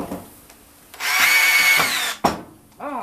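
A power drill with its clutch opened up drives into wood while a rabbit show carrier cart is being built, whirring steadily for about a second before cutting off, followed by a sharp knock and a brief rising whine.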